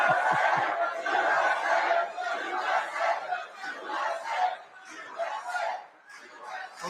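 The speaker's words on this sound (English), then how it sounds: "This is a big crowd of people." A large crowd at a political rally cheers and shouts together, with surging roars, scattered chatter and some laughter, fairly close and fluctuating in loudness.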